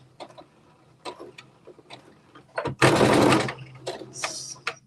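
A home sewing machine back stitches through fabric in short bursts, with light clicks and ticks between runs and one louder, longer whirring stretch of stitching near the middle, heard close with no talking.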